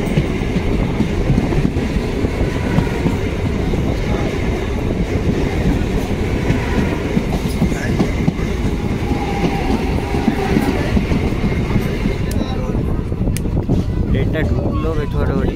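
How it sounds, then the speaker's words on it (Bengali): A Ranaghat–Lalgola MEMU passenger train rolls through Bethuadahari station, a loud continuous rumble and rail clatter that holds steady throughout. "সামনে দিয়ে আসছে 63-133 রানাঘাট থেকে লালগোলা মেমু প্যাসেঞ্জার।"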